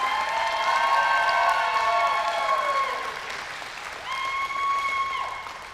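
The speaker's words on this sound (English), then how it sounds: "Can we give them another round of applause, and let's stand up for them." An audience at the Muscogee (Creek) Nation Scholarship Pageant claps and cheers, with brisk applause under long, shrill, high-pitched whoops and ululating calls that fade briefly and then rise again.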